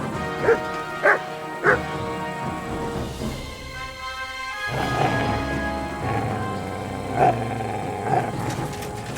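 Dog barking in the medieval role-playing game Kingdom Come: Deliverance 2, several sharp barks spaced out over a steady background of game music and ambience.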